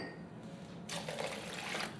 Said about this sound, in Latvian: Raugam pievieno ūdeni.